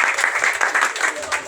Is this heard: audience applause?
yes